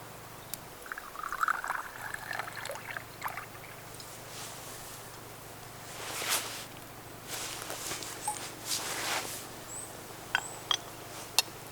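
An espresso maker part rinsed under running water in a forest camp, heard as faint, intermittent splashing and trickling over a quiet outdoor background, with a few soft clinks near the end.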